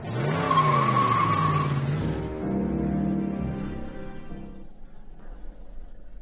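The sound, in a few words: car skidding as it is driven to crash in the film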